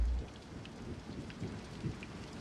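Rain falling steadily on an empty turnpike road at night, a soft, faint, even patter and hiss with no voices, low and continuous across the short stretch.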